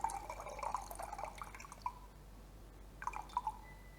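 Water poured in a thin stream onto ground coffee sitting on a set of coffee scales, with light dripping and trickling in two short bursts separated by a quiet pause, faint and close.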